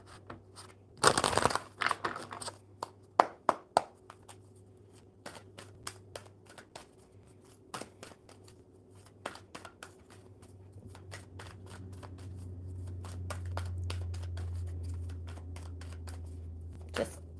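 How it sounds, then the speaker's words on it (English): A deck of playing cards being shuffled at a table, with a loud burst of riffling and crinkly snapping near the start, then scattered light taps and handling sounds over a low steady hum, with no talking. "All right, one more good shuffle for hope."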